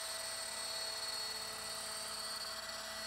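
Rotor and motor of a Roban EC130 800-size scale RC helicopter spinning at 1100 RPM, a steady high-pitched whine with a constant buzzing drone, close and unchanging throughout.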